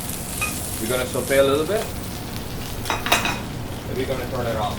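A watercress sauce sautés in a pan with a soft sizzle and occasional clinks of a utensil on the pan, while a person speaks briefly over it.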